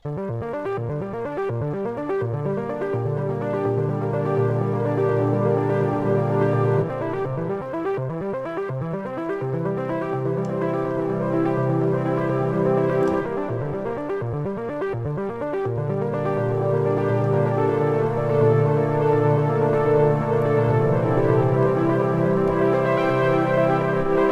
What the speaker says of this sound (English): you already have a really cool sounding ARP